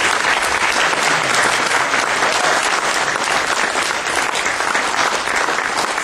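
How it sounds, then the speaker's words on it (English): Audience at a student game development showcase bursts into a full round of applause, thick continuous clapping that holds level throughout without any talk over it. "Let's give another round of applause for that."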